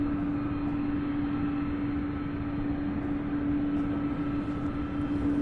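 Cargo jet engines at Louisville airport's UPS Worldport produce a steady, continuous roar with a constant hum, moderately distant and unbroken, with no talk over it.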